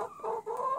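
A single pet hen gives a short, close, tonal cluck lasting under a second.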